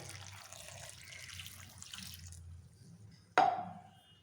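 Water poured into a pan of snake gourd and tomato curry seasoned with salt, turmeric and chili powder gives a soft, steady pour for a couple of seconds, then a sharp clink near the end.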